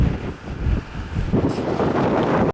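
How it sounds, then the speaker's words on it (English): Strong mountain wind of around 50 mph in Rocky Mountain National Park, loud gusty buffeting roaring against the microphone without pause. "The wind's probably 50 miles an hour."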